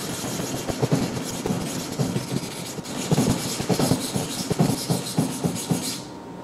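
Sandpaper scraping along a steel knife blade for a satin finish, a continuous close gritty rasp with repeated strokes, fairly loud and alone.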